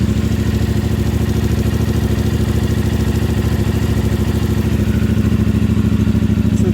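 CF Moto 450MT motorcycle engine idling after a cold start, a loud, steady, close rumbling idle with even rapid pulses throughout and no voices.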